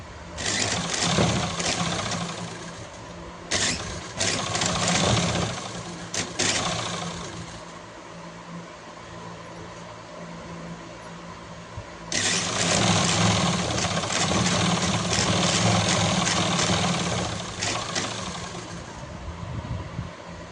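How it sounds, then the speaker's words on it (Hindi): A sewing machine stitches the last seam of a salwar in two long runs of steady rapid whirring, separated by a quieter pause, up close with no talk. "ये देखो सिलवार की हमारी लास्ट सिलाई है।"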